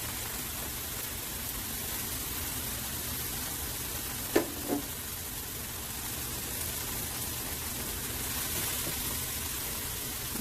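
Curry powder frying in a pot for Trinidad-style curry potato and corned beef, a steady close sizzle with one or two brief spoon clinks partway through, no voices.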